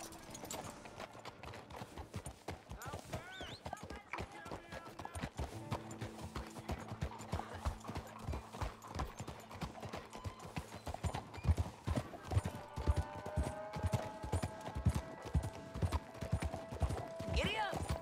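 Horse hooves clip-clopping at a steady galloping rhythm in Red Dead Redemption 2, close and continuous, with a brief whinny and in-game music and voices underneath.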